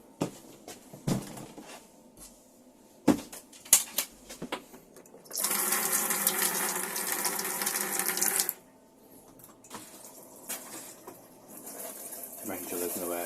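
A tap in a Swift Challenger 490 caravan runs for about three seconds, a steady, hissing gush with a clear start and stop. Scattered clicks and knocks come before it, and a person talks quietly nearby.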